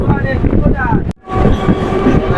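Loud rail rumble and clatter of a moving suburban train entering Sonarpur Junction near Kolkata, briefly cut by a sudden dip before the rolling noise and squealing tones resume.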